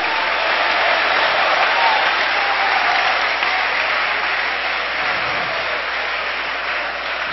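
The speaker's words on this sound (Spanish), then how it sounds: "¡Dele palmas al Rey!" A church congregation claps during a sermon, a dense, even wall of applause that holds steady for several seconds before ending abruptly.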